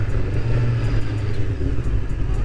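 A 1999 Honda CBR 600F motorcycle rides past and turns, its engine a loud, steady low rumble that holds through the whole moment, heard up close.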